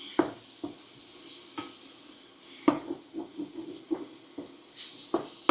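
Cheap ground beef being broken up and stirred in a hot pan, with a soft steady hiss under irregular scrapes and knocks of a utensil against the pan, close and moderately loud.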